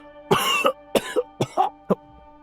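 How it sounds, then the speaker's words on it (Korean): A person coughs in a quick series of about five harsh bursts, loud and close, over a steady tonal background. "내가 이렇게까지 콜록거리지 않으면 넌 뒤도 안 돌아볼 테지"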